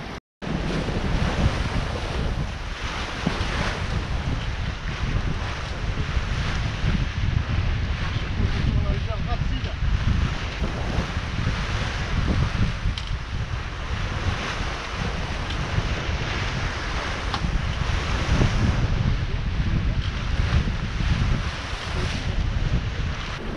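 Strong wind and a small swell wash around a sailboat on an open-sea crossing in June, a constant loud roar of wind buffeting the microphone over the rolling hiss of water against the hull.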